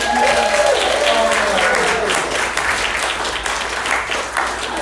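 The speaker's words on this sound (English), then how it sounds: "Keep the applause going." Applause from an audience at a live variety show, steady and dense throughout, with a voice speaking briefly over the clapping near the start.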